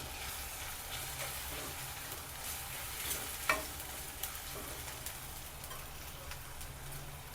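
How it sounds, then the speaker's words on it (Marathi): Chili powder, turmeric, coriander and cumin powder sizzle steadily in a hot pan while being stirred for a mackerel curry, a soft, continuous frying hiss with faint scrapes and a small clink near the middle. "परतून घेऊया आपण चांगलं।"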